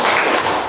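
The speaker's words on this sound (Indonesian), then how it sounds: "2 kali tepuk tangan." A couple of sharp hand claps from a group in a morning classroom-style concentration exercise, loud and close with no talk over them.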